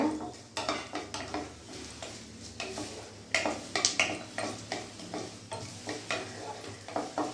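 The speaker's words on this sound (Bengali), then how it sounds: "ফোড়নটা আমার ভাজা হয়ে গেছে" Panch phoron whole spices with a dried red chilli fry and sizzle in a pan, with repeated metallic stirring clinks and scrapes in an irregular rhythm, close up and without talk.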